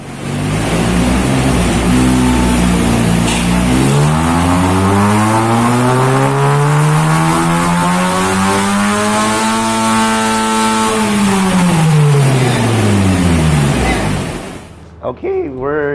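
A Honda Jazz/City engine, freshly ECU-reflashed, revs on a dyno, climbing steadily through the gears to a loud, high-pitched wail before dropping off and cutting out near the end.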